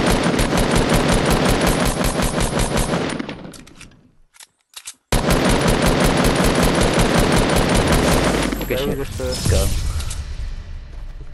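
Sustained rapid automatic gunfire in the Fortnite battle royale game rattles loudly in dense bursts, breaks off for a brief near-silence, then resumes, while players talk over the shooting.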